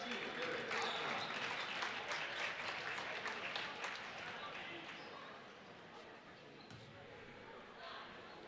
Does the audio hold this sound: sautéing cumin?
no